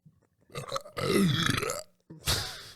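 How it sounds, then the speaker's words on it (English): A long, loud, croaky burp close up, with a couple of shorter guttural bursts around it. "you burp at inappropriate times and during the podcast"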